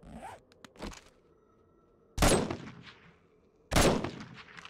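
Two sharp, loud gunshot bursts in the zombie video game 7 Days to Die ring out about a second and a half apart, each trailing off, with a few faint clicks and scrapes before them.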